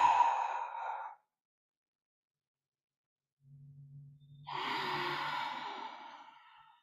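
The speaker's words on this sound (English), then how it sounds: "Deep breaths." Slow, audible breaths during a couples yoga session: a soft sighing exhale at the start, a pause of silence, then a longer breathy exhale with a faint low hum, fairly close and quiet.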